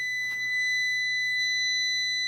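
Steady high electronic beeping from an APC Back-UPS 650 on power loss, a continuous tone with faint pulses over a low hum, close and clear.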